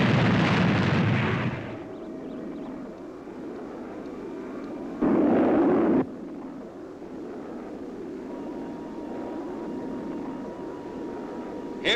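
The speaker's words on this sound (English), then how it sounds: "Maximum speed. Maximum speed. Fire boosters." Spaceship boosters fire in a vintage television sound effect: a loud roaring blast that cuts off abruptly, a low humming drone, then a second short roaring burst.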